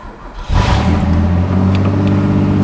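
A 1988 Pontiac Fiero GT engine starting: brief quiet cranking, then a sudden catch at half a second and a loud, steady idle that settles in close by, with no one talking.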